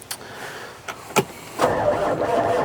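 A truck engine cranks with a few faint clicks and short bursts, then catches and settles into a steady idle, moderately close and heard without talk.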